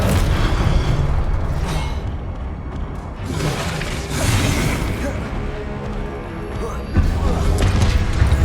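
Booming bursts of the Confringo explosive spell in the Hogwarts Legacy video game, a few heavy rumbling blasts and whooshes over a dense, loud game soundscape, with a voice calling out now and then.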